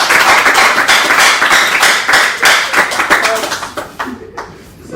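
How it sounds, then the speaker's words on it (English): People clap in a steady burst of applause during a live-streamed gathering. The clapping thins out into scattered claps toward the end, with voices talking underneath. "Guys, give them a big round of applause again."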